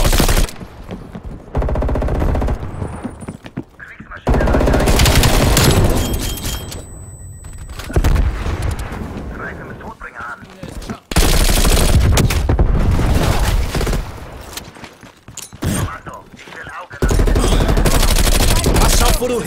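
Gunfire in Call of Duty Black Ops Cold War multiplayer, loud rapid automatic bursts and repeated shots in long stretches separated by short pauses, with occasional booms and game voices.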